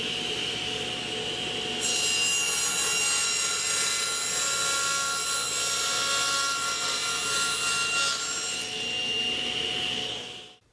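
A hand saw cuts through wood held on a sled against a miter guide, making a steady, close rasping stroke sound that carries on for several seconds before tapering off.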